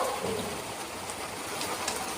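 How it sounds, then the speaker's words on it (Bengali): Steady rain falling with a dense, even hiss and scattered drops, constant throughout. "বৃষ্টি হচ্ছে, বৃষ্টি হচ্ছে"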